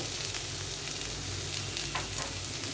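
Eggplant and potato frying in oil in a pan give a dense, continuous close sizzle that stays loud and even throughout, with faint stirring movement underneath and no voices.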